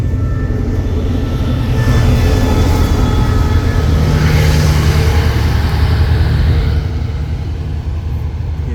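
The Thaksinarath special express train idles and rolls at Ban Pong station in Thailand, a steady loud low engine rumble with brake hiss and a faint distant tone, continuous throughout without speech.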